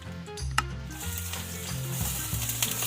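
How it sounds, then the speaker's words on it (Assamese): Chopped onions sizzling in hot oil with dried red chilies and three bay leaves for a jackfruit curry, a steady close fry with a sharp clink near the start and stirring throughout under a low musical bed. "এতিয়া মই ইয়াতে কাটি থোৱা পিঁয়াজখিনি ঢালিছোঁ।"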